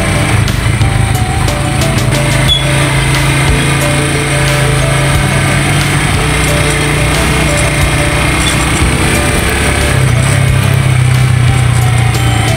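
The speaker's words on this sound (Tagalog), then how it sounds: "Hirap mag-drive ka-junker, isang kamay lang yung ginamit ko, tapos clutching yung motor ko." A small motorcycle is ridden along streets while its rider scouts for scrap to buy. The engine drones loudly and steadily up close, with rattling and a slight lift in pitch near the end, and no talking.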